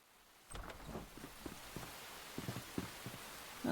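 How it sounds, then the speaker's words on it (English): Rain falls in the video game Enshrouded, a faint, soft patter with scattered light drops and small rustles spread irregularly across a quiet background. "Oh, and it's raining. So right now it seems like rain is the main weather."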